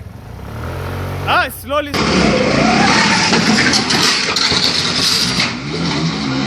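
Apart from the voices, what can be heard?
motorcycle pulling away and accelerating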